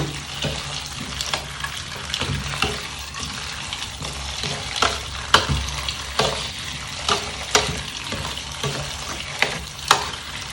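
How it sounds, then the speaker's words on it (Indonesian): Boiled bamboo shoots are rinsed with clean water, giving a steady close wash of splashing with repeated sharp sloshes and knocks as the shoots are stirred and handled. "Saya bilas dengan air bersih."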